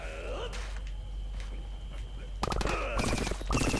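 A few quick three-round bursts of video game gunfire from Plants vs. Zombies Garden Warfare crack out in short clusters near the end, after a quieter stretch with faint background noise.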